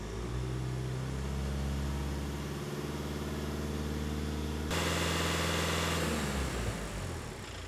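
A diesel engine runs steadily, then its pitch climbs as it revs to about 2,000 RPM and holds during a DPF regeneration, a loud mechanical drone with no talking.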